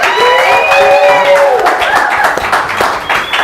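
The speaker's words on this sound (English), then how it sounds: "Please give her one last round of applause." A studio audience on a live talk show gives a loud round of applause and some cheering, with bright whoops over the clapping that tapers off toward the end.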